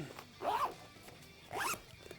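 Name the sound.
zipping a compartment of a hydration backpack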